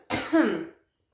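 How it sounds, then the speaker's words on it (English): A single throaty cough, close and fairly loud, starting with a rough burst and trailing off within about half a second, followed by silence. "Sorry, just need to cough."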